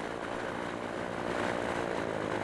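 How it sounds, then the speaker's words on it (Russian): Light aerobatic airplanes, mostly foreign-built, fly overhead at an air show for an aviation fleet day at an airport in overcast weather, giving a steady broad propeller engine drone that swells slightly, with no talking. "В небе легкие самолеты, в основном зарубежного производства, рисуют вензеля, несмотря на не самую удачную погоду."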